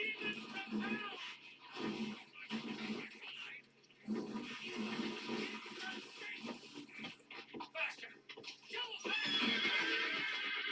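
A horse whinnies in a long, shrill, quavering neigh amid background noise and some voices.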